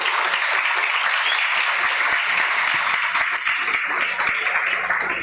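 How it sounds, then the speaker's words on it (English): An audience at a long service award ceremony gives a sustained round of applause, many hands clapping in a thick, constant wash with a few sharper individual claps popping out near the listener. "So another round of applause, please."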